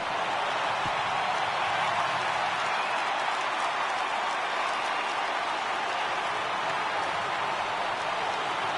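A stadium crowd in a baseball video game roars steadily, a dense, sustained wash of cheering and applause-like noise that holds at an even level for the whole stretch, with no clear speech on top.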